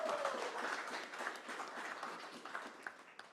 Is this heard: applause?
yes